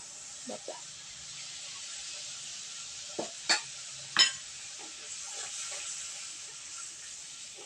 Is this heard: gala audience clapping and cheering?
no